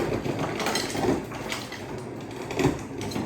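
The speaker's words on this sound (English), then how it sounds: "You're gonna hear a nice ice sound." Ice cubes dropped from a refrigerator into a cocktail shaker, a rough clattering rattle with two or three sharper knocks, close and fairly steady throughout.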